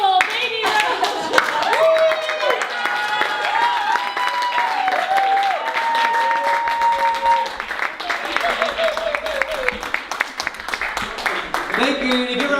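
An audience at a comedy roast event claps and applauds steadily and fairly loudly throughout, with voices and some tonal sounds running over the clapping.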